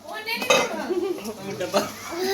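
Dishes and cutlery are washed at home during Holi, with close clinking and clattering of utensils and faint voices in the background.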